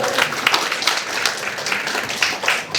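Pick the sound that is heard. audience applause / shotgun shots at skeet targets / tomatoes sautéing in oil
audience applause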